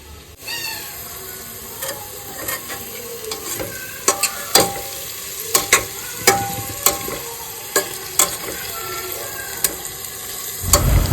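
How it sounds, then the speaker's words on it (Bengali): Ingredients for chicken soup fry in a pan with a continuous soft sizzle, broken by many sharp scrapes and clinks of a spatula stirring against the metal, close and repeated, with a louder clatter at the end. "সব ভাজাভুজি কমপ্লিট।"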